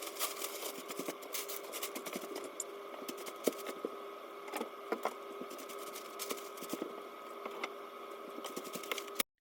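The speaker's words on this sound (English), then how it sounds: "I sanded the sides, the front, and the back of each board to make sure everything was nice and smooth in preparation for paint." A power sander works over the sides, front and back of wooden boards for a DIY display, giving a steady, close whirring drone with a constant hum and light rattling throughout, no voices.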